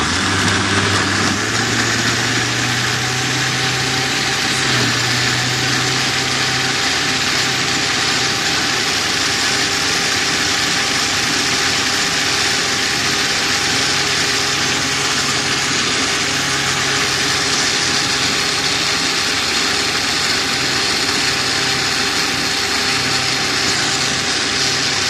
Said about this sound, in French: nous cherchons à refermer notre blender et nous passons